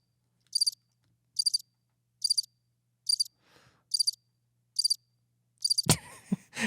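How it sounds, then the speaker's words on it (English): A recorded cricket chirps in short, evenly spaced bursts, seven in a row, each a quick rapid trill, clear against silence; a louder clattering noise breaks in at the end. "It's a really long cricket."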